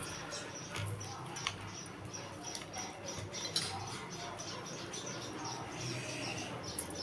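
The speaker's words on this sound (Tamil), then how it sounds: "குருவி சவுண்ட் போட்டுக்கிட்டே இருக்குது." A sparrow chirps in short, faint, repeated notes scattered over a quiet, noisy background.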